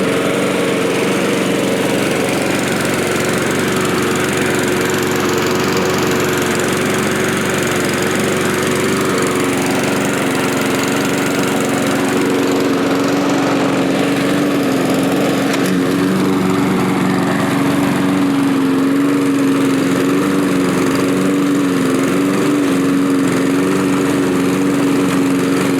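A lawn mower engine runs steadily and loud throughout, a continuous droning hum with slight shifts in pitch and no voices over it.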